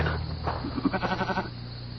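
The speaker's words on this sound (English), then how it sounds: "He thought he heard a bleat, a sarcastic bleat, from the poet's goat." A goat bleats in a short run of quavering, pulsed calls close by, standing out over a steady low hum.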